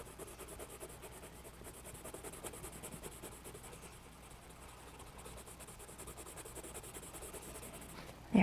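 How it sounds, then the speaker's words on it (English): A pencil shades on paper in a steady, soft scratching rub of light back-and-forth strokes, continuous and close with no talking. "Turn your pencil and don't press down too hard."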